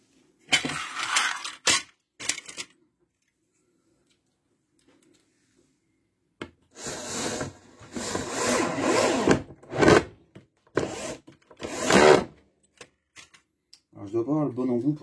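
A power screwdriver drives a screw into wood while a workshop tool cabinet is built, giving several short bursts of whirring and rattling, one of them longer, with a gap of near silence between them; the bit seems to slip.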